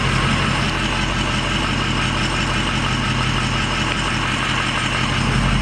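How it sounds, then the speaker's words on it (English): Truck engine running steadily at low speed, a loud constant idle-like rumble with rattling and vibration throughout as it pushes through bushes. "We do have to drive through their bush just a little bit."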